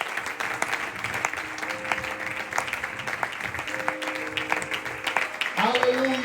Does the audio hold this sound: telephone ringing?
no